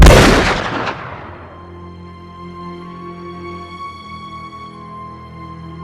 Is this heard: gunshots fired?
yes